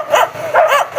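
A dog gives a quick run of four sharp, loud barks close by, evenly spaced with no other sound between them.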